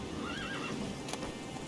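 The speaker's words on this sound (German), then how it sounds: "Das Pferd will mich treten." A horse in the video game The Witcher III: Wild Hunt gives a short, wavering whinny, followed by a few scattered hoof clops over a steady background hum.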